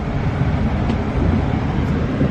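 Riding inside a train in England: a loud, steady rumble of wheels and carriage noise fills the whole stretch with no breaks and no voices.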